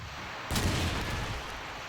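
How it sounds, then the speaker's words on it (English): A trench gun blasts once in Call of Duty 2 on the Dawnville map during a competitive match. The sharp boom comes after a moment of quiet and rings briefly with gritty battle noise underneath. "going to open up the frags there onto S-Walker with that trench gun"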